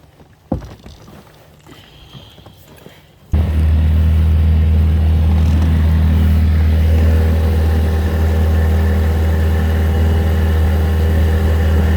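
A small outboard engine on a dinghy fires up after a few seconds of quiet handling noise, then runs loud and steady with a constant low drone at close range.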